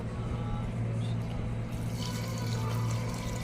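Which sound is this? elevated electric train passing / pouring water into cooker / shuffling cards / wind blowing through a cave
pouring water into cooker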